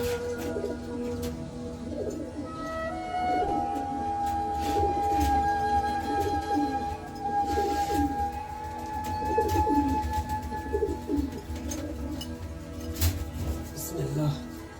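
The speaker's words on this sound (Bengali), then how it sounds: "কবুতর উড়াবো।" Domestic pigeons coo steadily in a winter setting before being released to fly, with soft, repeated low calls continuing throughout alongside other faint bird chirps and a long tonal note.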